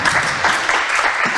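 Audience applause for a recently married local entrepreneur at a business fair in Mezőtúr, a dense, steady wash of many hands clapping throughout, fairly loud and continuous with no break.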